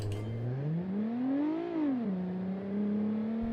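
A car engine in the video game BeamNG hums low, then revs up in one smooth rise as it launches in low range, drops back, and settles into a steady drone.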